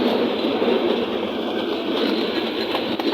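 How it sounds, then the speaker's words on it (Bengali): The Rangpur Express train passes close by at a Bangladeshi rail station, filling the air with a loud, steady roar of wheels and carriages that holds without a break. "এটা হচ্ছে রংপুর এক্সপ্রেস ট্রেন"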